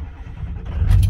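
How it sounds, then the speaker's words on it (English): A 2004 Ford F350 Lariat 4x4 dually flatbed truck engine gives a short, close, low rumble that grows louder toward the end of the brief moment. "Truck fires right up."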